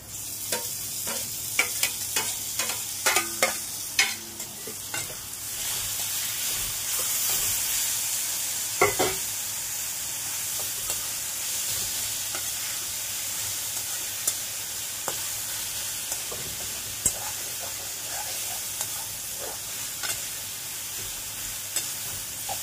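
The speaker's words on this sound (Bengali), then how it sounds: "শাকটাকে তত সময় ভাজতে হবে যত সময় শাকের থেকে তেল না ছাড়বে" Leafy greens and stalks fry in oil with browned coconut in a pan, a long continuous sizzle broken by repeated scraping clicks and knocks of a spatula stirring, close and steady throughout.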